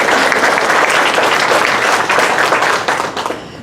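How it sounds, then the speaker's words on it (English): An audience at a candidate forum claps loudly and steadily, a dense continuous patter of hands that tapers off slightly at the end. "So let's just clap for them."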